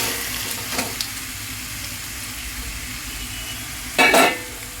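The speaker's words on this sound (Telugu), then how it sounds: "మ్యారినేట్ పెట్టుకున్న చికెన్ వేసేస్తున్నాను" Marinated chicken frying in ginger-garlic paste for a homemade chicken curry, a steady loud close sizzle with a sharp hissing burst near the end as pieces drop into the hot pan or get stirred.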